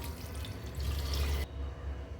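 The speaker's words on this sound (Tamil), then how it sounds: "பலாக்கா வேக வைக்கிறதுக்கு தண்ணி சேர்த்துக்கிறேங்க" Water pours steadily into a pressure cooker holding cut raw jackfruit pieces for a gravy, a continuous splashing stream that stops abruptly partway through, leaving a faint low hum.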